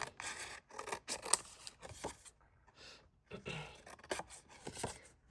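Scissors trim paper journal cards at close range in a series of crisp, uneven snips and rustles with short pauses between cuts, fairly quiet.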